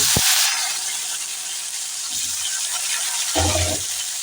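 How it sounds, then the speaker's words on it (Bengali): Salted, turmeric-coated eggplant slices frying in hot oil, a steady bright sizzle throughout, with a few faint clunks underneath. "বেগুনটাতে একটু নুন হলুদ মাখিয়ে এই বেগুনগুলোকে একটু ভাজা করে নেব"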